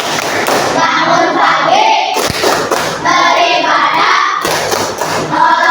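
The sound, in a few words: group clapping rhythm of the 7 habits of Indonesian children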